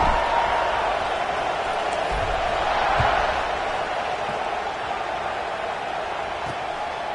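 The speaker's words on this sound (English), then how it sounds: "this crowd is buzzing after that last score" A packed stadium crowd at a Boston College vs. Clemson college football game buzzes in a dense, steady roar of many voices, a constant wash of noise with occasional faint shouts.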